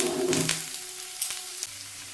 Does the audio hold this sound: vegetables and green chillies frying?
yes